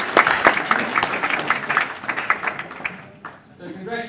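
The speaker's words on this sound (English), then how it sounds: "let's give a big round of applause to those students graduating the HTMi awards" Applause at a hospitality school graduation ceremony, a burst of clapping from the audience that thins out after about three seconds as speech resumes.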